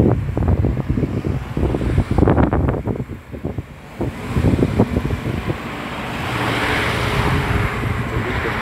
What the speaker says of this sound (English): So this is a busy area with traffic